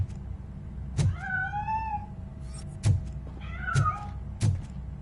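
A cat meows twice, each call a clear rising-falling tone, between soft thumps and knocks close by.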